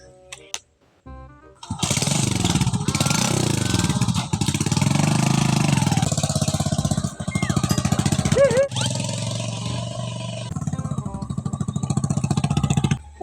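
A motorcycle engine starts with a few sputters, then runs loud and rough close by for about ten seconds, revving and idling unevenly, with occasional voices under the noise.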